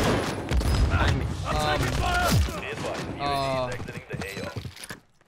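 Shotgun blasts in a first-person shooter game, several loud booming shots going off among close voices talking over them, with scattered game sound effects in between.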